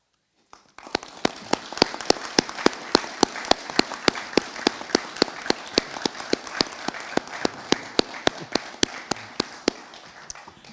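An audience at an Army ROTC commissioning ceremony applauds after new second lieutenants are commissioned, sustained clapping with sharp individual claps standing out close by, steady for about ten seconds.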